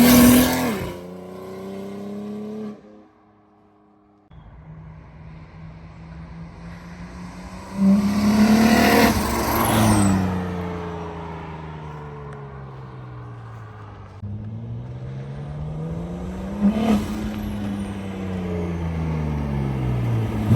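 BMW F82 M4 fitted with a SpeedTech 6266PT top-mount single turbo revving hard, engine note climbing and falling in repeated sweeps with a brief lull early on, loud and close throughout without talk.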